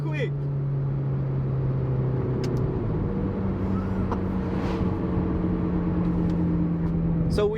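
McLaren GT engine pulling hard under full throttle in first gear, a loud steady drone heard from inside the car that shifts pitch once partway through, with some tire and road noise throughout.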